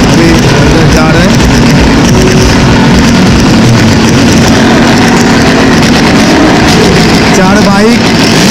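Motorbike and Maruti car engines rumble loudly at a crowded village fair show, their idling and revving mixed with a dense din of crowd noise and voices.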